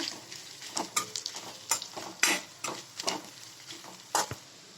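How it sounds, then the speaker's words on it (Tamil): Chillies and curry leaves sauté in a pan for peanut chutney, a steady close sizzle broken by repeated sharp scrapes and knocks of stirring, with no voices. "இப்போ வர மிளகாயும் கருவேப்பிலையும் சேர்த்துக்கோங்க. இதே நல்லா வதக்கிக்கோங்க."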